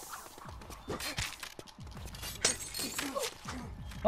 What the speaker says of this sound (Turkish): camı kırdım ya